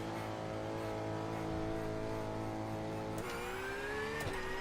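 A Porsche race car accelerates hard at Hockenheim in a racing video game, its loud steady engine whine climbing in pitch and shifting gears near the end, close and unbroken, without speech.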